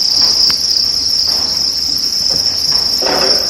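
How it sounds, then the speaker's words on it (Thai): Crickets on a cricket farm chirp steadily and loudly in a continuous high trill, close by, with faint rustling underneath. "ดูนะคะจิ้งหรีดก็เริ่มขึ้นมาแล้วทุกคน"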